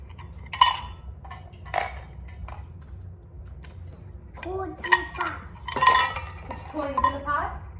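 Small toys clink and rattle against a metal cooking pot in a few scattered bursts, light and close, with a voice piping up between the clinks.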